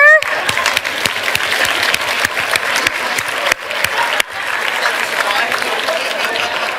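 A room full of people applauds a speaker at a business talk on customer advocacy, dense steady clapping from start to finish with a brief dip partway through.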